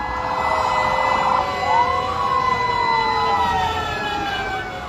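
Fire engine siren wails loudly and steadily, with rising and falling tones sweeping over traffic rumble, at a large ongoing residential fire in Happy Land, Tondo, with many fire trucks on scene.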